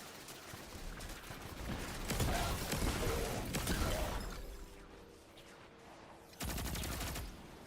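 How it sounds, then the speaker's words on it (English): Destiny 2 gunfight with bursts of rapid automatic fire and scattered shots, dense and loud for a few seconds, easing into quieter mechanical sounds before another sharp burst near the end. "Stop shooting my teammate, man"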